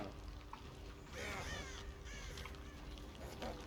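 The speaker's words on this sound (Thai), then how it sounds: "อีกาบินว่อนเลย" Crows in the Dead by Daylight game give several hoarse caws with wing flutter, fairly distant and faint over a low ambient background.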